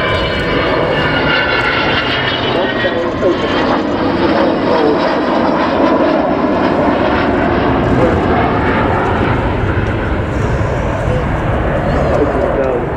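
A loud, continuous engine roar from an Avro Vulcan XH558 jet bomber flying overhead at the Yorkshire Air Show 2015 dominates, steady and droning with a broad rumble, while a voice briefly speaks over it.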